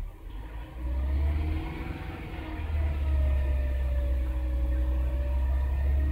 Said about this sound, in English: I'm going to rev it up.